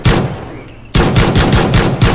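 Gunshots from a country-made pistol in a real-life PUBG comedy skit: one loud crack opens, then after a short pause comes a rapid string of about six sharp shots, close and loud, with no talking.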